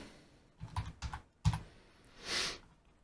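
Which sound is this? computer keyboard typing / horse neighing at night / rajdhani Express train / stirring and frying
computer keyboard typing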